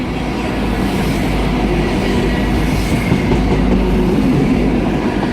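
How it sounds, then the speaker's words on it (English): An Arriva Trains Wales passenger train from Llandudno runs past close by, a continuous rumbling roll with rhythmic clickety-clack from the wheels and faint squeals, loud and unbroken throughout. "approaching now is going to be an Arriva trains Wales from Llandudno to Manchester"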